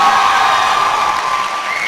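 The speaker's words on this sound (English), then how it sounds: "When you clap, put your hands together so loud" Audience at the 29th YDC graduation ceremony clapping loudly in a dense, continuous wash of applause, with cheering voices and whoops mixed in.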